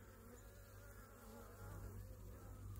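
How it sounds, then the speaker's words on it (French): Honeybees buzz around their hives in a forest apiary, a dense, steady drone of many insects that holds at an even level throughout with no voices. "Les abeilles qui ressortent, qui refont leur vie."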